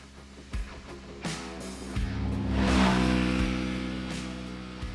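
A 2023 Kawasaki Teryx KRX4 1000 eS Special Edition side-by-side with a naturally aspirated engine revs up through a swelling mid-pitched whine that peaks and then tapers, preceded by a few brief thumps.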